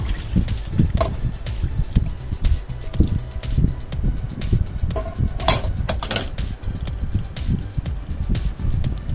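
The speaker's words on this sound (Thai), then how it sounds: "เสร็จแล้วก็เทน้ำทิ้งไปค่ะ" Water pours and splashes out of a bowl after brushing and rinsing pineapples, a continuous close splashing trickle with irregular bursts and no talk.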